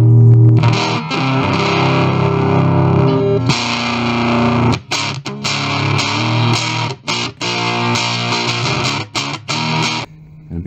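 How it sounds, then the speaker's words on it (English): Electric guitar played through an Electro-Harmonix Hot Tubes overdrive pedal, loud gritty distorted chords and riffs ringing on, then choppier strummed bursts with short gaps, no voice. "Electro Harmonics Hot Tubes overdrive."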